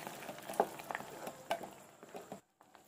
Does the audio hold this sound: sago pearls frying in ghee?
yes